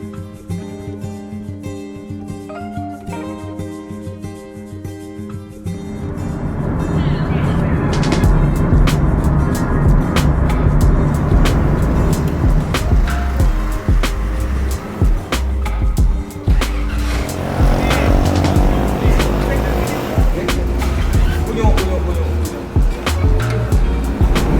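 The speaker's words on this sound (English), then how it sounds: "we started the journey on a car for an hour 30 minutes" A car drives along the road toward Mount Bromo in Indonesia, its steady engine and road rumble swelling after a quieter start and continuing as a dense, constant drone.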